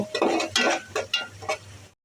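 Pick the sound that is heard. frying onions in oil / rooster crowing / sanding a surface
frying onions in oil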